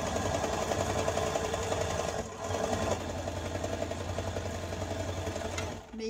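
A sewing machine stitches felt cap pieces in a steady, fast mechanical whir with a rhythmic needle chatter, running nearly continuously close by with a brief pause midway and slowing at the end.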